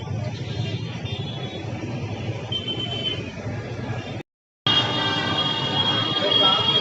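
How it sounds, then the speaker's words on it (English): A train rumbles at Anand railway station in India at night, with a steady mechanical roar and sustained horn-like tones, broken by a brief moment of silence before resuming louder. "this is the Anand railway station"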